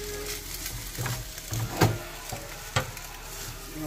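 Cheesy scrambled eggs being folded in a frying pan, a steady close sizzle with soft scraping strokes and a couple of sharper knocks of the utensil against the pan.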